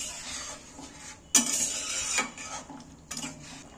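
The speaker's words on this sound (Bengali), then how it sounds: "নুনটা ঘেঁটে দিচ্ছি।" A spoon stirs salt into chickpea curry (chola masala, ghugni) in a pot, with scraping and clinking against the metal in bursts, one sharp knock partway through and another near the end.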